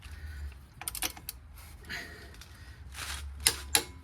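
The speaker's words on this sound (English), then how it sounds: "I'm gonna torque the flywheel and pressure plate bolts right now." A torque wrench tightens the flywheel and pressure plate bolts on a Nissan S13 240SX during a manual transmission swap, giving short bursts of sharp ratcheting clicks with brief pauses between them, close but fairly quiet, with no talking.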